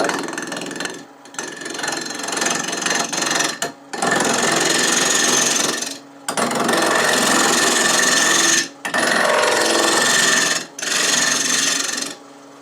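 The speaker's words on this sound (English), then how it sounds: "I want to reshape the rim and get it trued up. I'm using a 3/8 inch bowl gouge, bar stock size." A 3/8 inch bowl gouge cuts the rim of a wooden bowl on a lathe, producing loud, close, continuous rasping bursts of several seconds each, separated by brief pauses.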